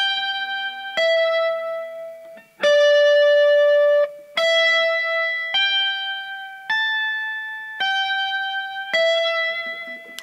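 Electric guitar with distortion and compression playing a pentatonic run slowly, about eight clean, sustained single notes picked one after another at a steady, unhurried pace, each ringing out before the next.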